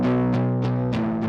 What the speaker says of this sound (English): And this is a collection of different distortions inside a Live. A tube drive.